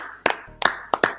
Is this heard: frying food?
no